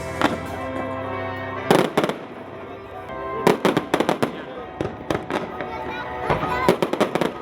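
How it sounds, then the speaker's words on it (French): Fireworks display at Pouilly, a summer event: loud bursts and crackling explosions come in irregular clusters, booming close and full, with voices from the crowd talking underneath. "commençons par deux événements du début de l'été, le feu d'artifice de Pouilly et la course de la paix."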